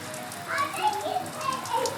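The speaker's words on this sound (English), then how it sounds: "it's actually rainy" Steady outdoor rain falls as a constant hiss across the whole stretch, with faint distant voices blended into the wash of drops.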